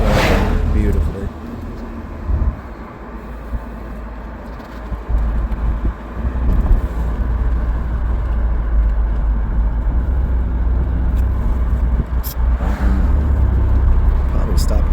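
A Mercedes-Benz E350 climbing a curving incline, its engine and road noise a steady, fairly loud drone heard from inside the car, with a few brief knocks along the way.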